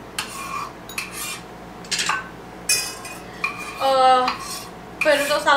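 Green onion is scraped from a board into a bowl, giving several close clinks and scrapes of utensils against dishes in short separate bursts, with a faint voice in the background.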